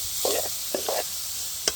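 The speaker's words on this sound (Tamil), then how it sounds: "வெங்காயம் மிளகா போட்டு கொண்டிருக்கிறோம்" Onion and chili frying in a pan with goat blood, a steady sizzle broken by a few short bursts of stirring and scraping, close by and fairly loud, no voices.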